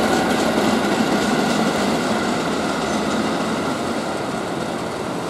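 A KRL commuter train rumbles past on the right, loud, steady and close, its broadband roar and rail noise holding throughout with no talk.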